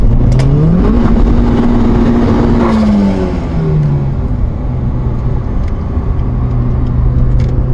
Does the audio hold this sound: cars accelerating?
yes